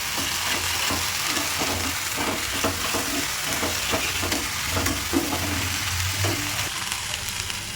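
Ginger-garlic paste, salt, pepper, chili flakes and bhetki fish frying in a hot pan for fish chops, a steady loud sizzle with the soft scrape and clink of stirring throughout.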